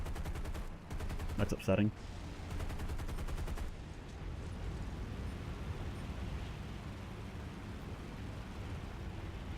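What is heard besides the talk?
artillery fire in the video game War Thunder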